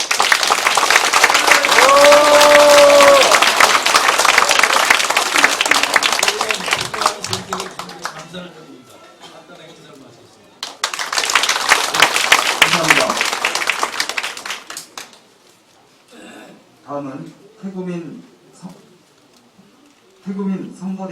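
An audience applauds at a campaign committee disbanding ceremony. Loud clapping rings out for several seconds, fades, then returns in a second strong burst, with someone speaking through the quieter gaps.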